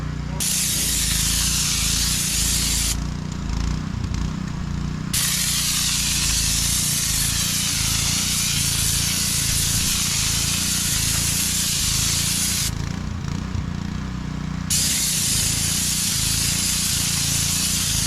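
Waterproofing coating sprayed onto a house foundation, a loud continuous hissing spray that runs nearly the whole time, with a steady low machine drone beneath and brief breaks in the high hiss.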